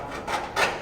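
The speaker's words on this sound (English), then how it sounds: "we'll go and get a scribe mark in there." A scribe drags across metal to mark a cut line for welding, two short, close rasping scratches, the second slightly louder, with a gritty, steady scraping texture and no talking.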